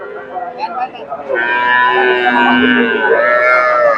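Young Friesian bull calf at a cattle market in Bogura, giving a sustained, loud bawling moo with a harmonic tone that stretches across most of the clip, with market bustle around it.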